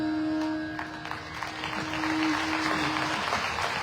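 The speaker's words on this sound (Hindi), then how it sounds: "मैंने अभी थोड़ी ताली बजाने के लिए बोला आपको" A crowd claps in a dense, continuous patter of applause, moderately distant, with a sustained tone and faint voices in the background.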